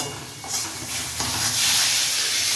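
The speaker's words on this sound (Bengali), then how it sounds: "এইবার গ্রেভির জন্য জল দেব" Water poured into hot masala for a hilsa fish gravy sets off a loud, rising steamy hiss and sizzle that keeps building over a couple of seconds.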